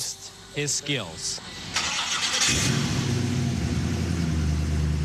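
A custom-built car's engine cranks with a starter whine, then catches and settles into a steady, loud idle close by, with voices talking over the opening moments.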